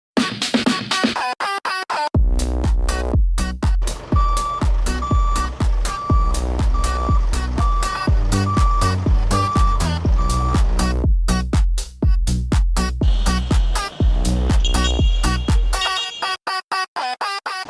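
Trucks reverse at a motorcycle plant in Uganda, a steady loud electronic reversing beep repeating in even pulses for well over ten seconds over rumbling engines and scraping noise, then cutting off near the end.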